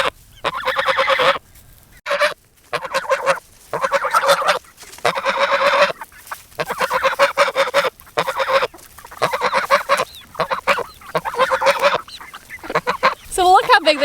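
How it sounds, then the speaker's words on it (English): A goose among growing chicks and young roosters honks repeatedly in loud, nasal bursts with short pauses between them, close by, with an occasional voice in the background. "So let's go say hello to the chicks and the goose and take some treats."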